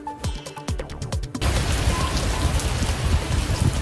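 Steady heavy rain pours onto a surface, a dense continuous hiss after a short opening burst of separate percussive hits; it runs loud and unbroken with no voices, in Delhi.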